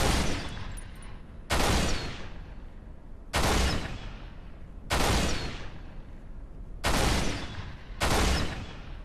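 Six separate bursts of loud video-game gunfire crack out at roughly regular intervals, each a sharp blast trailing off into a long fading tail before the next.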